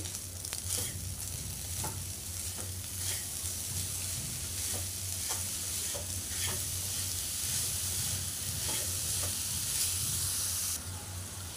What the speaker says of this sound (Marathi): छानपैकी मिक्स करून घेऊया खोबऱ्यामध्ये